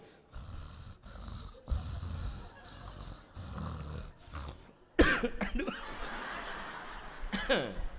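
A voice imitates snoring with a series of rhythmic rasping snorts, then breaks into sharp coughs and sputtering near the end.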